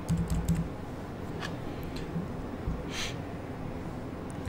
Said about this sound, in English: I'm going to print out the username as we press the backspace button